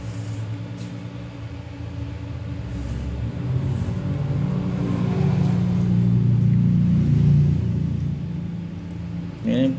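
A winding machine turning the copper wire onto a 1 kVA toroidal transformer with a 5 kg core and 1.5 mm wire, a low mechanical whirring rumble that builds and then eases, with a voice speaking over it.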